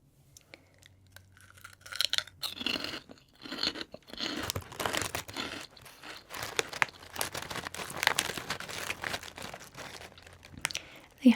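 Textured, slightly rounded barbecue-flavoured crackers crinkle in their wrapper and then crunch under repeated close bites and chewing, irregular and quiet, with no talking.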